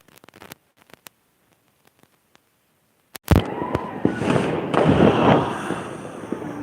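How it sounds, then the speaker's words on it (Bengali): New Year fireworks go off in the night sky. Scattered distant pops come first, then a sudden loud bang followed by a dense, continuous crackling roar of many explosions. "আরেকটা সাথে তো আতশবাজি ফুটে দিছে"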